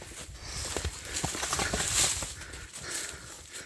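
A mare's hooves clip-clop on the ground in an uneven walking rhythm, moderately close, against outdoor background noise.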